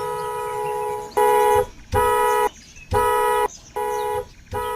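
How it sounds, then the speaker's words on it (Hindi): A loud car horn blasts repeatedly in long, even honks with short gaps between them, close and harsh, over a low background rumble on a zombie-movie street scene. "कौन है जो इतनी तेज हॉर्न बजा रहा है?"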